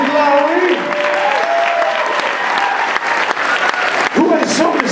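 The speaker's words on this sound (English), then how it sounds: "So ladies and gentlemen, please, I want a round of applause for the lovely Ellen McLean." Loud, sustained applause from a crowd at an expo closing ceremony, with cheering and voices mixed into the clapping throughout.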